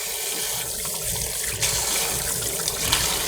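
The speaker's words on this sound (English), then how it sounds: "with cold water. You wash it." Cold tap water runs steadily into a kitchen sink as pork ribs are rinsed, a continuous close hiss and splash with slight shifts as the meat is handled.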